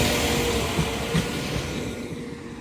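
A Class 800 train pulling into York station on the East Coast Main Line: a steady, broad rumble and hiss of the passing train with faint rail clatter, loud and continuous throughout.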